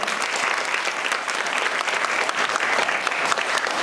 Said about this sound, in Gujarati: ચાલો ત્રણેય બહેનોને આપણે તાળીઓના ગડગડાટથી વધાવવાના છે